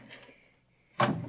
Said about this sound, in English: Now, this door is open.